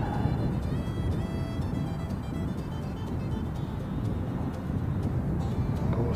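A Qantas airliner, flight QF 170, pushing back at Christchurch airport: a steady broadband engine and ground rumble with a faint tonal whine, continuous and moderately distant, with wind noise over the microphone and no talk.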